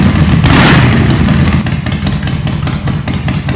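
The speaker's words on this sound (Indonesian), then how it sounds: "apalagi suaranya itu loh, ngebas bergemuruh sambil mainin gasnya" A Harley-Davidson petrol motorcycle engine revs loud and close, a deep rumbling burst up front that settles into a throbbing, clattering idle with pulsing beats, heard alone without talk.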